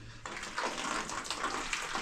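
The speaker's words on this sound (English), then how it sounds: "The water has too much pressure until it removes the cover of this place." Water gushes from a newly installed tap inside a village house, starting abruptly with a strong, steady hissing rush under high pressure that carries on without pause.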